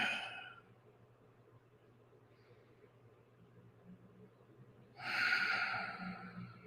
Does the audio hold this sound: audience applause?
no